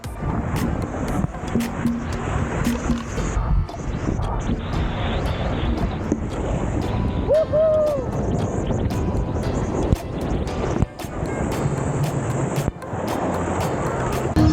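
A rider goes down the Taumata Racer mat racing water slide at Aquatica Orlando, with constant rushing water and rumbling wind noise, a brief distant voice and scattered thumps as the mat slides along.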